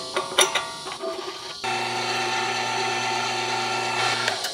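Metal clicking and rattling as a blade is fitted onto a meat grinder for a second pass through the small die, followed by a steady loud motor hum running throughout.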